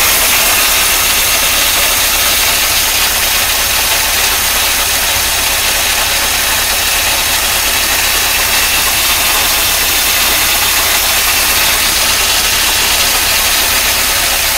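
A 1953 Oldsmobile Rocket Super 88 barn-find engine idles steadily and loudly up close, a continuous mid-pitched rumble with a slight knocking roughness and no talk over it.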